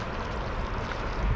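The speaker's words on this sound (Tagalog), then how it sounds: "Makaka-relax yung ingay ng ano, magaslis ng tubig." River water flows and gurgles steadily at close range, a continuous rushing wash with a slight swell near the end.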